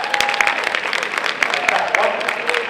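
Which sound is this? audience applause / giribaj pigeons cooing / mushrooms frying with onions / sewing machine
audience applause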